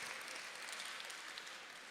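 A brief, steady wash of applause from a Hindi poetry-reading audience, even and unbroken, with no talking.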